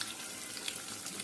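Chicken sizzles in oil in a pan, a faint, brief, steady crackling hiss with no other sounds over it.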